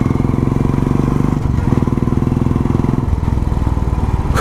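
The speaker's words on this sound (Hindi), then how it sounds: "the current exhaust which I am running on the bike, which is the short bottle, or you can call it the Indori silencer" Royal Enfield motorcycle fitted with an Indori short bottle silencer exhaust, idling loud and close with a steady deep thumping beat and slight changes in pitch, no talking over it.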